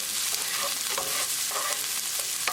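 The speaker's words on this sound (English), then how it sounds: "Keep it moving and keep cooking until the onions are nicely translucent" Onions frying and being stirred in a pan while making mushroom dal, a continuous close sizzle with soft scraping strokes of a spoon running through it, no talk.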